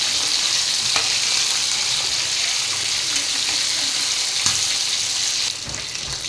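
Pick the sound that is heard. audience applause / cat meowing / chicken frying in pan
chicken frying in pan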